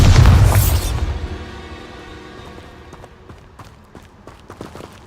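A Bombarda blast spell goes off in Hogwarts Legacy with a sharp, loud explosion at the start. It decays into a long rumbling tail, then faint scattered footsteps and clicks.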